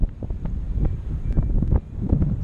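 Wind rushing past the microphone during a tandem paragliding flight in a crosswind, a steady low buffeting roar with gusty rumbles and flutter and no voices.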